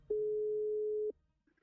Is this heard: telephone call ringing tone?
yes